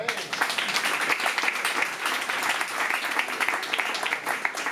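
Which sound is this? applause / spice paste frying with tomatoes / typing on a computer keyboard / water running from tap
applause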